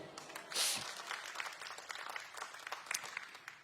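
A church congregation clapping their hands together, a soft, fairly distant patter of applause that swells briefly near the start, then continues as a loose, uneven clatter.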